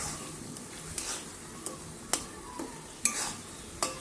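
Lote (Bombay duck) fish jhuri being stirred in a pan as its water cooks off, with a steady soft sizzle broken by a few sharp scrapes and clicks of the spoon against the pan.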